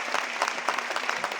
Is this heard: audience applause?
yes